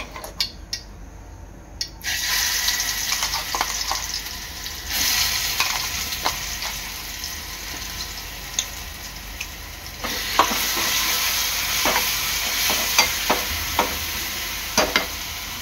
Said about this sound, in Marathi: तेलामध्ये मी आपलं वाटण सोडणार आहे हे।